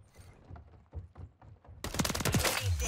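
Gunfire from the Holger 556 in Modern Warfare 3: soft distant shots at first, then a loud burst of rapid automatic fire crackling close up for the final second.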